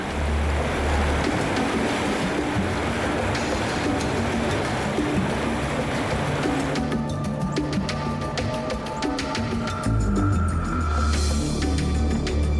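River water churns and splashes during a crossing on a bear-tracking trip, a continuous loud wash with surging noise, shifting midway to a thinner, choppier splashing with bursts of turbulence.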